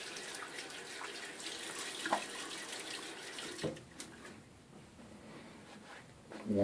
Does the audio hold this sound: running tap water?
yes